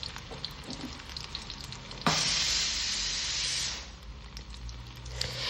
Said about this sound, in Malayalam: ചൂടായ എണ്ണയിലേക്ക് ചിക്കൻ ഓരോന്നോരോന്നായിട്ടിട്ട് നമുക്ക് ഫ്രൈ ചെയ്തെടുക്കാം